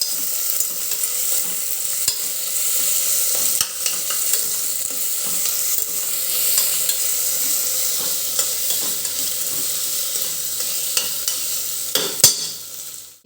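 Potatoes and mixed vegetables sauté in a pressure cooker for masoor pulao. A loud, continuous sizzle runs throughout, broken by a few sharp utensil knocks and stirring clatter near the end.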